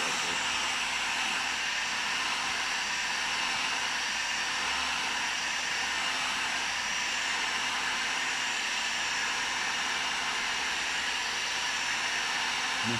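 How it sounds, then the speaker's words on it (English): A heat gun blows steadily on the glue around the edge of a Discovery 2 TD5 headlight, giving a continuous close, even whooshing roar that runs the whole time with no speech. "So we're just going to heat the glue up around the edge"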